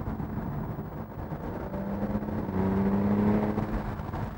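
Aston Martin DBS with a transaxle gearbox revs its engine as the exhaust valve opens, a steady whirring drone that swells louder midway with a rising tonal note, close and continuous with no talk.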